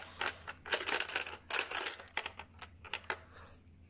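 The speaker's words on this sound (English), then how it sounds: "It's quite hard to get the coins out." Coins tumble out of a Godzilla coin bank with a spinner mechanism, giving bursts of bright metallic clinks and jingles in uneven clusters. They are close and fairly clear, with no talking.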